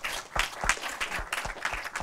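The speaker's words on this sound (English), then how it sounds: "So one last round of applause for Iyabo." An audience applauds after a lecture, a dense patter of many hands clapping steadily at moderate distance, with no one speaking over it.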